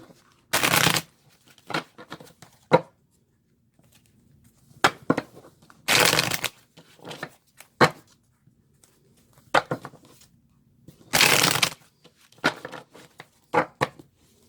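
Tarot cards being shuffled by hand, in short riffling bursts of crisp papery clatter separated by quiet pauses and lighter taps, close and clear with no talk.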